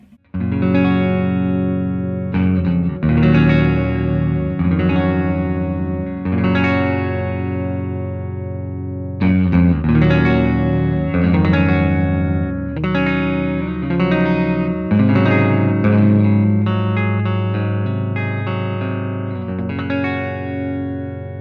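A 1981 Fender Bullet Deluxe electric guitar plays clean chords, strummed and let ring in bright, sustained phrases with short pauses between, close and alone with no talk.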